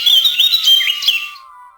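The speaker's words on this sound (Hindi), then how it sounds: "पेड़ों पर बैठी चिड़ियों की चहचहाहट" Birds chirping in trees in a green village, a bright, close cluster of quick warbling tweets that stops after about a second, leaving a thin fading tone.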